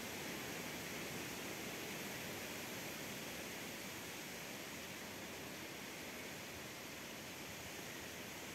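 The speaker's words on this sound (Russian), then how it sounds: "Соседские березы и дубы шумят." Steady broadband wind noise through neighbouring birch and oak trees in a Moscow region garden on a warm July day, an even leafy rush holding at constant level throughout with no voices.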